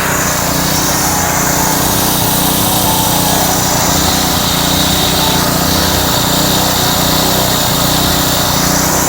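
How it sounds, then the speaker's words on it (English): Jeep WJ engine running after a gas tank leak repair, a loud, steady, close drone with a buzzy high-revving edge that never changes pitch or rhythm. "Okay, I got it running."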